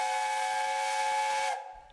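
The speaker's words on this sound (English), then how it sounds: "the shrill of the whistle could be heard across the site throughout the day" A steam locomotive's whistle at a Great Western Railway open day at Old Oak Common, one long, loud, shrill steady blast that cuts off sharply.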